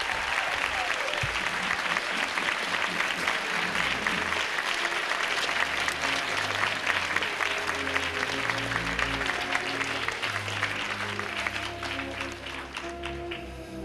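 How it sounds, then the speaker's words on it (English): Sustained audience applause at a science fiction convention masquerade for KidCon contestants, steady and loud throughout with a dense crowd texture and no speech over it. "give Jeanette Curley and all of our contestants in the KidCon a really big round of"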